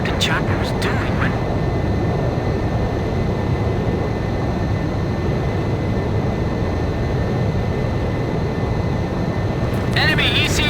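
Jet fighter aircraft in Ace Combat 5 roars continuously, a loud, steady engine rush filling the whole stretch, with brief bursts of radio chatter over it at the start and end.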